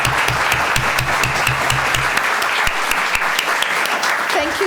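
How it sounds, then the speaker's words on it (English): An audience at a parliamentary members panel event gives a loud, dense round of applause, continuous clapping with a few sharp individual claps standing out and a faint voice near the end. "let's give our members panel a huge round of applause."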